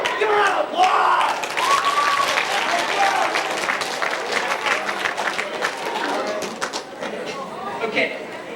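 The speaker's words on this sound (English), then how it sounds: "Give her a round of applause!" A middle school assembly audience applauds and cheers loudly, a dense wash of clapping and crowd noise that starts strong and tapers slightly, with some shouting mixed in.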